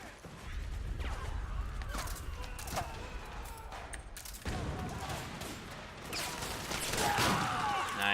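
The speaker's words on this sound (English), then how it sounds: "Because sniping these guys with the pistol sucks ass." Gunfire from Metal Gear Solid 4 as a pistol is used to snipe enemies. Several sharp shots and crashes sit over a dense, busy game soundscape with rumbling and clatter, steady and moderately loud throughout.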